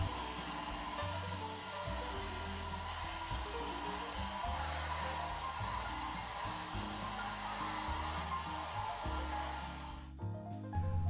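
A hair dryer blows continuously to speed the drying of dye on restored automotive leather, a steady close whooshing roar that holds for about ten seconds before a brief change near the end.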